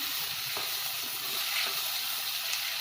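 Sliced onions fry steadily in hot oil in a pan, turning light golden brown, with a loud, continuous close-up sizzle and a few faint utensil scrapes.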